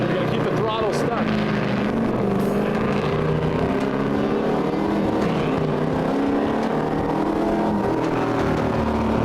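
A drift car engine held at full throttle on a course drones loud and continuous with a rough, buzzing tone and slight pitch wavering, while a voice talks over it.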